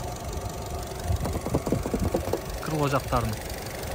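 A 2017 Hyundai Rapid with a 1.6 engine idles steadily with a low, even mechanical rumble, heard close while someone talks over it.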